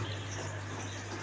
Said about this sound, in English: Just open the valve, guys. See, water is coming inside and going down.